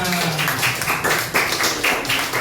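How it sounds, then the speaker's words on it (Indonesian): Classroom applause for a group's performance: a small crowd claps in quick, dense patter for a couple of seconds at a steady moderate level. "Tepuk tangan."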